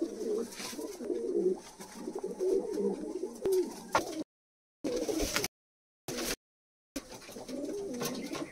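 Pigeons in a high-flying pigeon loft coo in low, throaty rolling calls, several birds close by, with a few brief gaps of silence.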